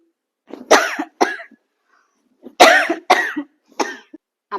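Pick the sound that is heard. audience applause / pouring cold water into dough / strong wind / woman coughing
woman coughing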